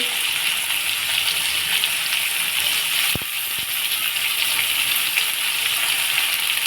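Chopped carrots drop into vegetables frying in a pan, with a steady, loud sizzle throughout and a brief clatter partway through.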